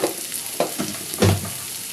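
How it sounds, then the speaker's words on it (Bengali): Cauliflower and tomato fry in a pan with red chilli powder and black salt, making a close sizzle with a few louder scrapes and stirring knocks, and no voices. "এটাকে আরও একটু ভেজে নেব"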